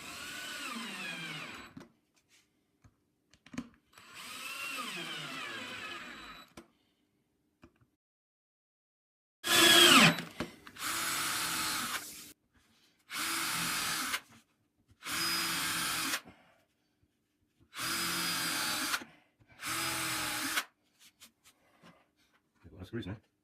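A power drill drives screws into a custom Telecaster guitar build: six short, loud bursts of motor whine, each lasting about a second and separated by silence, following two earlier quieter mechanical sweeps.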